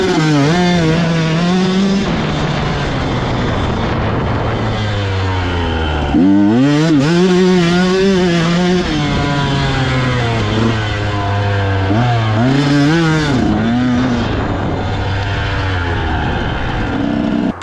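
Dirt bikes ride a soft, sandy track, their engines loud and close, rising and falling in repeated revving surges as the riders accelerate and shift through the run.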